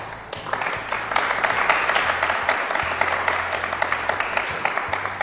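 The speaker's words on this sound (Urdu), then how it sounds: "تالیاں بج رہی ہیں" An audience in a hall claps in dense, sustained applause, loud and close, with many overlapping hand claps running steadily from start to finish.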